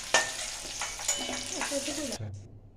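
Ginger, garlic and whole cumin fry in hot oil for a fish curry, a steady close sizzle with stirring scrapes that cuts off abruptly near the end, leaving a low hum.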